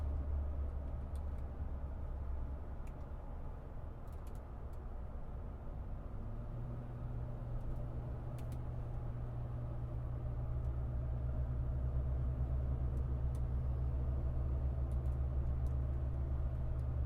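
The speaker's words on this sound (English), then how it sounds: "Truck drives absolutely perfect." A lifted 2003 Toyota Tundra pickup with 87K miles cruising on a test drive, a low, steady engine and road rumble heard from inside the cab, fairly quiet and continuous with a slight rise in pitch partway through.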